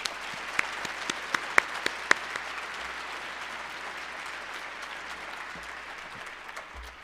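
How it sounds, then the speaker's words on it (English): An audience at a 2012 student speaker ceremony gives a round of applause, a dense continuous patter of many hands with a few sharp close claps early on, steady and moderately loud with no talking. "let's give a round of applause to all the breakthrough speakers."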